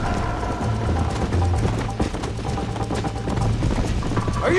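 A horse gallops in Red Dead Redemption, with steady rapid hoofbeats running throughout, close and loud, over a low rumbling background.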